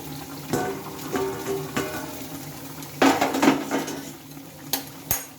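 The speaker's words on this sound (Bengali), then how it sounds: "দেখো এই যে ঢাকাটা এখন আমি খুলে নিচ্ছি" Metal lid lifted off a kadai wok of simmering mutton on a gas stove, with clanks and scrapes of metal against the pan and a sizzling hiss, close by.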